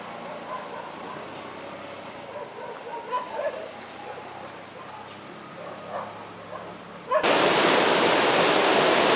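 The Mindo River in Ecuador rushes as a steady broadband wash of flowing water, moderately loud throughout and suddenly much louder and closer for the last two seconds.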